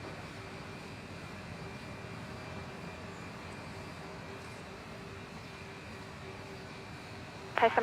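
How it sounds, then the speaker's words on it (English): A Singapore Airlines Boeing 787 takes off from runway 19 right at Bangkok Suvarnabhumi Airport, a faint, steady distant jet roar that holds evenly throughout. "All right, Singapore 707, operated by a 787."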